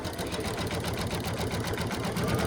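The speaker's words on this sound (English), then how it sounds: "we're going to hit go. This is going to be 2 minutes, and it's going to do that quilting outline stitch." An embroidery machine runs a quilting outline stitch, its needle hammering in a fast, steady mechanical rhythm with a constant motor hum, close and alone.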